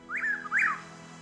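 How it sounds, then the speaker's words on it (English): A bird in the video game Nancy Drew: Ghost Dogs of Moon Lake gives a loud whistled call, two rising-and-falling notes in quick succession over a low background hum. "that's a loud bird."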